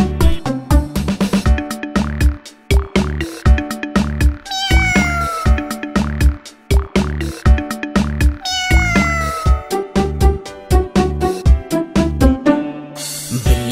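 Cat meows recur throughout a Hindi children's nursery rhyme, bright and loud, layered over a bouncy musical accompaniment.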